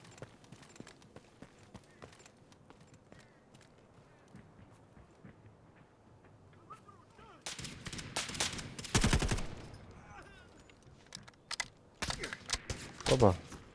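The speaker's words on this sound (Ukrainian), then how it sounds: "Там був ще десь гравець стріляв" Bursts of loud gunfire crack out in rapid clusters in the video game Delta Force, over a quiet background of clicks and faint activity.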